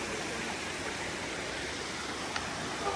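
Small creek on the Appalachian Trail near Sinking Creek, Virginia, flowing steadily as a broad, even wash of water noise, close and constant, with no talking.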